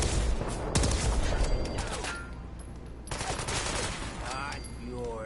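Laser pistol gunfire during a Fallout 4 firefight, dense bursts of rapid electronic shots with crackling impacts, loud and continuous, with a voice talking over the shooting.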